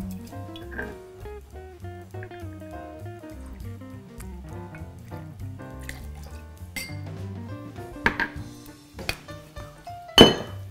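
Ice clinking and rattling as a generous amount is added to a shaker for a dry pisco sour, with scattered light knocks and sharp glassy clinks building to a louder clatter near the end, close and fairly quiet with no talking.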